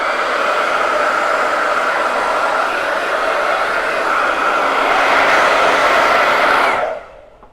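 Hair dryer blowing on DIY Christmas window-display craft decor: a loud, steady, close whooshing hum lasting about seven seconds before cutting off abruptly.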